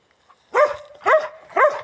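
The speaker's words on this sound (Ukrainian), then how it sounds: "Гавкає чогось." A dog barks three times in a steady rhythm, close and fairly loud, each bark sharp with a brief whiny edge, in a quiet rural yard.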